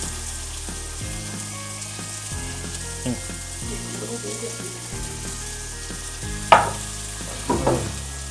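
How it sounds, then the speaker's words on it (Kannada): Chopped onions frying in oil for egg bhurji, a steady close sizzle with stirring clatters, then two louder bursts of scraping near the end. "ಸೊ ಕಟ್ ಮಾಡಿರೋ ಈರುಳ್ಳಿನ ನೀಟಾಗಿ ಎಣ್ಣೆಗೆ ಹಾಕಿ."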